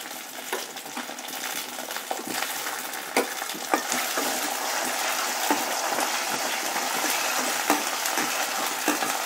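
Browned onions and freshly added spices sizzle and fry in a pan while fiddlehead fern sabji is cooked, a loud steady crackling hiss with occasional scraping stirs, and no talking.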